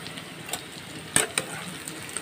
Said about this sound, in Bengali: তেলটা একটু গরম হলে আমি ওই আলু মাখাটাকে এর মধ্যে একটু ভালো করে কষিয়ে নেব